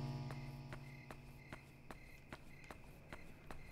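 Crickets chirp at night in the horror game Yomawari, a faint steady insect trill over a low game drone, with evenly spaced soft footsteps tapping along.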